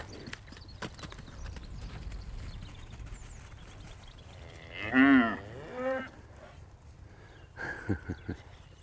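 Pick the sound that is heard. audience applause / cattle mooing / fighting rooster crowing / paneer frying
cattle mooing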